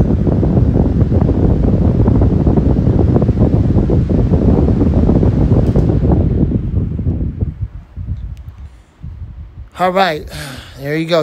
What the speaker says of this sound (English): Wow, the spin down time on this one is decent